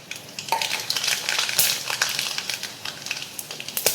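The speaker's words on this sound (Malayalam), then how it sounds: "ഇനി ഒരു ചെറിയൊരു വറവ് ഇട്ട് കൊടുക്കാം. കുറച്ച് കടുക് ഇട്ട് കൊടുക്കേ." Mustard seeds crackle and spit in hot oil for a tempering, with rapid irregular pops over a continuous sizzle, close and fairly loud, no voices.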